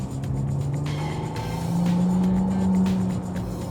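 McLaren Artura supercar engine droning at low speed around 60 km/h in manual sport mode, a steady throaty hum with a rising tone midway, heard from inside the car.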